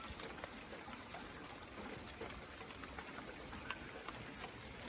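Rain falls in a backyard on an evening that is still bright, a steady, even hiss with scattered soft drop ticks and no voices, holding at one level for the whole stretch.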